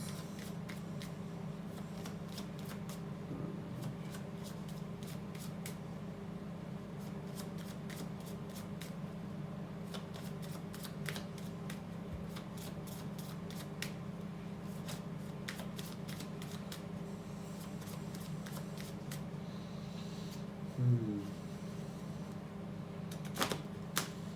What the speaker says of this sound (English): Quite often I've seen people when they're shuffling their cards, you know, they split the deck.